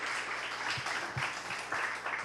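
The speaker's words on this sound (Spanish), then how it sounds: "Aplausos." Audience applause for a writer at a book talk, a steady wash of clapping filling the room at moderate level, with a few sharper claps standing out briefly.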